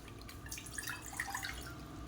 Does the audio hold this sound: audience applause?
no